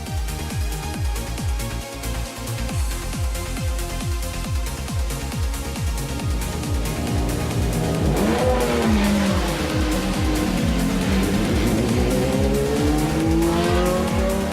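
Supercar Challenge race cars, Ferraris among them, roll off toward the start at Slovakiaring on a hot track, engines droning and revving loudly and continuously, with a few tyre chirps and rising pitch sweeps as they accelerate.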